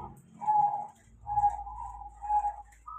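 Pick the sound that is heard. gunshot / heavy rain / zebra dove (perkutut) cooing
zebra dove (perkutut) cooing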